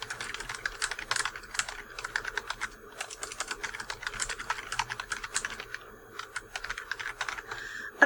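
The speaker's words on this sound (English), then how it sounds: "I'm going to type a quick sentence" Steady typing on a computer keyboard as a sentence is entered: rapid, irregular clicking keystrokes, close and clear, with a brief pause near the end and no talking.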